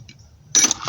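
Metal chisels land in a Home Depot bucket with a single short, sharp clanking rattle near the mic after a quiet moment.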